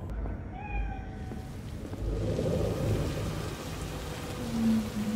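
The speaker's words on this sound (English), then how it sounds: "It ends on a roof in the rain, at night, with lots of neon lights." Steady rain pours down on a rooftop at night in Cyberpunk 2077, a dense, close hiss with rumbling low-end noise and a brief meow-like tone early on.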